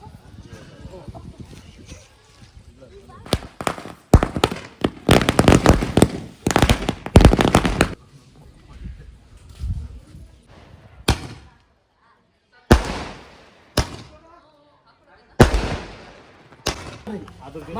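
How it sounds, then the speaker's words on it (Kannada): Firecrackers burst outdoors as loud, sharp bangs. A rapid cluster comes early, then isolated cracks are spaced a second or more apart, with voices faintly heard between them. "ಭಾಗ್ಯಮ್ಮನ ಪಟಾಕಿ ಎತ್ಕೊಬತ್ತವ್ರೆ."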